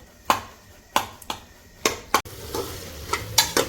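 Mashed carrot and beetroot for carrot halwa frying in a pan, with sharp scrapes and taps of a stirring spoon landing every half second or so over a low continuous sizzle, close by and without talk.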